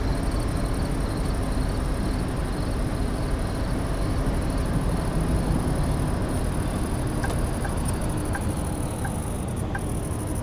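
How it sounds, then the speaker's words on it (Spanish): Insect-like chirping inside a bus at night in the video game Bus Simulator 18, a steady dense buzz with faint repeated high chirps over continuous engine and road rumble, no talking. "¿Por qué los grillos suenan así dentro del autobús?"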